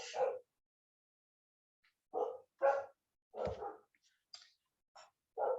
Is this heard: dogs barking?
yes